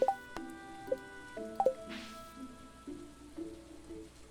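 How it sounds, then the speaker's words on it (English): Soft rain falls in a farming video game, making a faint, steady patter. Bright chime-like interface blips play over it, and a brief hiss of noise rises midway. "It's raining on her!"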